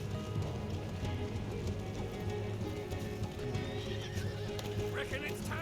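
In a video game, a horse whinnies loudly while its hooves clip-clop steadily, with rain-like patter and shifting game noise underneath throughout.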